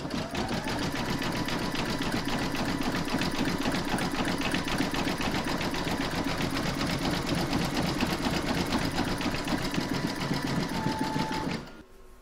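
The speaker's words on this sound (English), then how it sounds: "stitch round number 6, and that's going to do the zigzagging around the edge and leave a gap where you're going to join the second piece" An embroidery machine stitches a zigzag around the edge of a pig applique, a loud, steady, rapid mechanical whir running unbroken for nearly twelve seconds before stopping abruptly.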